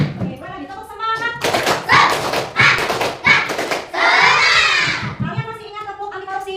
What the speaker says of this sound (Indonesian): Oke, boleh lagi tepuk semangat.